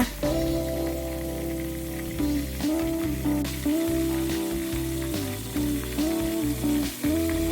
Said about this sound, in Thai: ค่อยๆทอดไปเรื่อยๆค่ะอย่าเพิ่งกลับชิ้นปลานะจ๊ะ